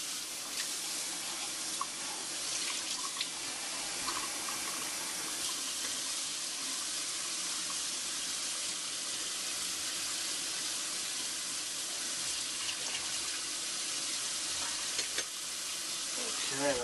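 Tap water runs steadily into a measuring cup while a quarter cup is filled for brownie batter in a home kitchen, a continuous close hiss lasting the whole stretch with no talk.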